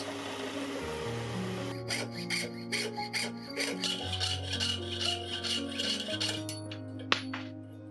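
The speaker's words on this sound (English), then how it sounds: "The spokes are then cut and filed to shape." A hand file rasps in steady back-and-forth strokes over the spokes of a watch balance wheel held in aluminium vice jaws, close and continuous, against a low machine hum.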